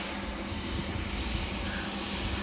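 A SATA Dash turboprop airliner at Ponta Delgada airport in the Azores makes a steady, fairly distant engine drone that persists throughout without speech.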